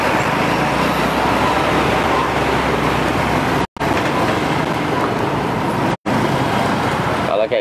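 Dense, steady roadway roar of a total traffic jam on the road between Juwana and Rembang, with engines idling and rumbling close by and a voice speaking over it.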